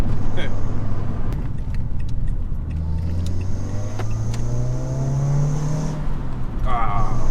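A Renault Clio 172 Trophy engine drones steadily at low pitch, rising briefly in revs as the car swings through a U-turn on a twisty road, with faint interior rattles and a clunk.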